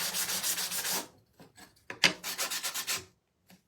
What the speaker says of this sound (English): this sanding block that I'm using right here, this exact one, I actually got from the Dollar Tree